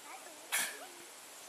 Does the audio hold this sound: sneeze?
yes